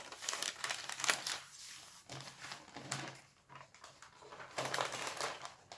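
A protective paper sheet is folded over an artwork page, giving close crinkling and rustling in repeated bursts with short pauses between folds.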